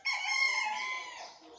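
A farm rooster gives a single, sustained crow, fairly faint and heard alone, trailing off at the end.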